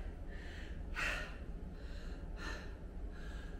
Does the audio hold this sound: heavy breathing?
yes